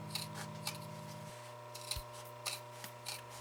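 Fabric scissors snip along a sewn seam allowance of a zippered cosmetic bag, a series of crisp close cutting strokes and rustles over a quiet electrical hum.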